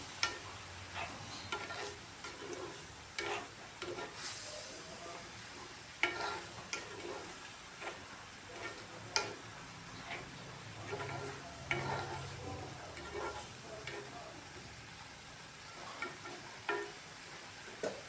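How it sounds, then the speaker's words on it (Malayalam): A mushroom stir-fry is stirred in a pan, with faint low sizzling under repeated light spoon taps and scrapes spread through the stretch. "ഒന്ന് ഇളക്കി കൊടുക്കാം."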